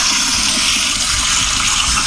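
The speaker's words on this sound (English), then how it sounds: "this is the actual sound effects from my partner's home restroom where he had a deluxe power flusher installed" A deluxe power flusher toilet in a home restroom flushes with a loud, steady, forceful rush of water that holds evenly for about two seconds, with no one talking.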